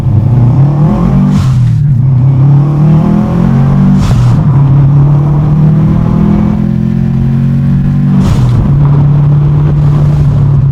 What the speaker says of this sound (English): That constant Darth Vader swoosh, I'm telling you, it forces you to floor it.